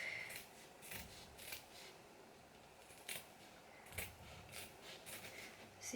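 Scissors cut out a paper visor close by, quiet intermittent snips and paper rustles coming in short bursts with pauses between.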